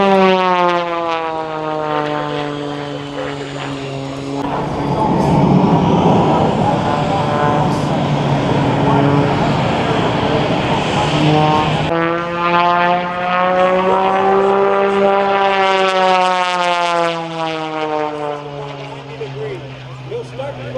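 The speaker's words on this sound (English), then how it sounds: "He'll start to roll the aircraft on the way up." Propeller aerobatic airplane at the 2023 Dayton Air Show, its engine droning loudly throughout with a shifting, rising and falling pitch as it maneuvers, heard under continuous announcer-style commentary.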